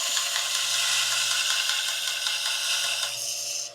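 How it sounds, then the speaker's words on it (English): Steady, bright grinding of a steel tomahawk head for a native-style tomahawk, a continuous abrasive whir with a low fan hum underneath, close and loud, tapering off at the end. "This is how I'm grinding this."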